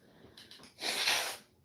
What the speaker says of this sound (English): Oh, I had to sneeze, sneeze, sneeze.